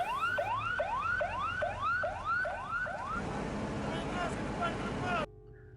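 An ambulance carrying six sick migrant workers to RSUD Batubara hospital sounds its siren in repeated rising wails, loud and close. The wailing breaks off into a broad rushing noise before the sound cuts out.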